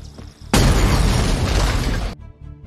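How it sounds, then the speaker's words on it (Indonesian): A car blows up from grenades in an action film, a sudden loud booming blast with roaring debris that lasts under two seconds before cutting off over a low music bed. "Lalu, John menaruh beberapa granat sampai mobil itu pun meledak."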